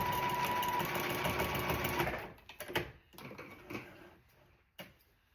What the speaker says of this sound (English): Make sure when you're sewing over your seams that are opened, that they are open and laying flat.